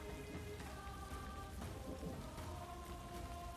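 Steady rain falls on a surface through a storm, a dense, even hiss with a low rumbling bed beneath, quiet and continuous with no talk.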